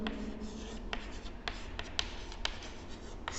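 Equations written by hand during a lesson on non-homogeneous linear systems: scratchy pen or chalk strokes in short irregular bursts, close up over a low background rumble, with no voice.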